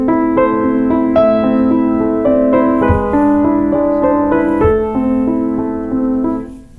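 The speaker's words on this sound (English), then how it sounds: "I want to press down on my first note and then press down on the pedal like this" Sustained piano notes blend smoothly into one another as the damper pedal holds them, with chords ringing over a steady low bass, played close and fairly loud with no talking.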